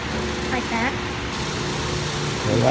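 A spinning wire wheel grinds steadily as it cleans rusty, pitted DiamAlloy lineman's pliers, a constant close whir and rasp with voices talking over it.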